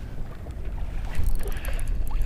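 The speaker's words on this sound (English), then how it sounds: "Getting very hard to sit still out here because of the wind." Gusty wind buffets the microphone outdoors on a big open lake, a steady low rumble rising in stronger bursts over faint lapping water.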